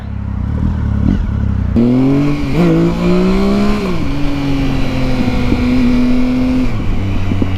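A Triumph Speed Triple motorcycle accelerates from 0 to 60, its engine rising loudly in pitch through the gears. It sounds close, steady and strong, with no talking.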